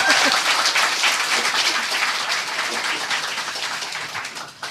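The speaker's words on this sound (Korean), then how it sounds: "이럴 때는 박수를 쳐도 잡아가지 않습니다." An audience in a studio setting breaks into applause, a dense, loud wash of many hands clapping that gradually tapers off over a few seconds.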